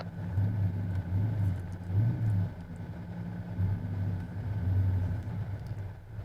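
A race car idles and rolls slowly down pit road in first gear at about 1,200 RPM, a steady low engine rumble with gentle pulsing swells throughout and no voices.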